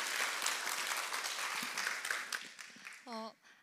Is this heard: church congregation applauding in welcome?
yes